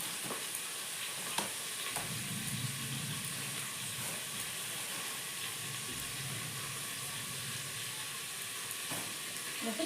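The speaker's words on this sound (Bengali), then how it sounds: "আমি তেলে ফ্রাই করে নেব" Chicken pieces fry in hot oil with a steady, even sizzle that runs throughout, with a few faint clinks of utensils and soft bubbling.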